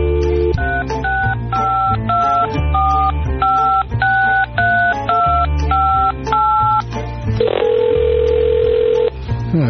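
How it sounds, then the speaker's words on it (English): A telephone number is punched in as a rapid run of loud touch-tone beeps in an uneven rhythm, ending in one longer held tone. "Dial the phone"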